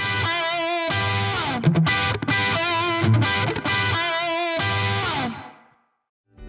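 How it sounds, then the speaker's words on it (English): Sustained, distorted synth chords drenched in a reverb plug-in effect, swelling and cutting in bursts, then a smooth reverberant tail fading into silence at the end. "or make the reverb brighter or darker"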